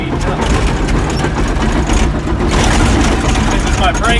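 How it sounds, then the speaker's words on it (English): A Caterpillar D5N bulldozer's diesel engine runs at full throttle, a loud steady rumbling roar heard from the operator's seat with someone talking over it. "Bulldozers speed up, run full throttle all the time."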